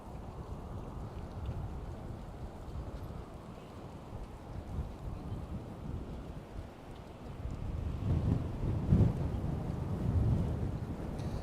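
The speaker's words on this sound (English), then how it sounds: "Super windy." Strong wind rushes and rumbles steadily against the microphone in New York City, swelling louder in gusts toward the end, with no one speaking.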